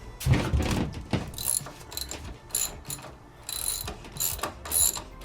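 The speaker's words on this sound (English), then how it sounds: "These are 10 mil on the clamp. Loosen those up." A ratchet loosens the 10 mm fork clamp bolts on a Yamaha Tenere 700 motorcycle during front suspension work. Bursts of rapid clicking pawl sound up close, broken by short pauses and handling noises, with no voices.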